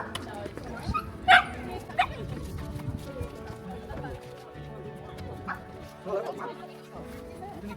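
A dog gives a short, sharp bark in a busy Cotswolds village on a Sunday, heard through a steady murmur of crowd chatter and outdoor bustle, followed by a few fainter yips.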